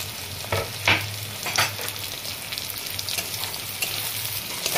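Onions and green chillies sizzle and fry in oil in a pan of chicken keema, with a steady crackle and a few louder scrapes of stirring near the start.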